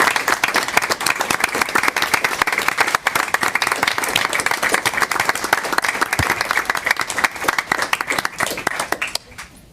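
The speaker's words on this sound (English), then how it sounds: "Could we have you stand up and we can give you a round of applause since you came out tonight?" An audience at a school board meeting gives a sustained round of applause for teachers, with dense, even clapping that fills the room before it tapers off at the end.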